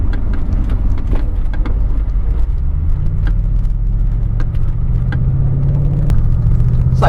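Audi S6 Avant with a 4.2 V8 petrol engine running on LPG, heard as a steady loud rumbling drone with road roar while driving, its pitch rising slightly partway through.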